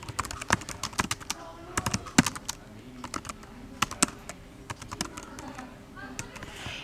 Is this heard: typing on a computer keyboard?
yes